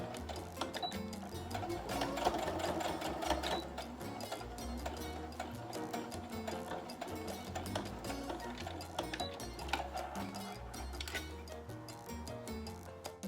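A sewing machine stitches back and forth over elastic, its steady rapid mechanical ticking running continuously at a quiet, close level with no talk.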